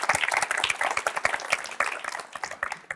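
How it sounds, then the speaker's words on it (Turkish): A small audience at a talk on forgiveness claps, a close, lively patter of individual hand claps in uneven bursts, no speech over it. "Vallahi bir alkış alalım arkadaşlar."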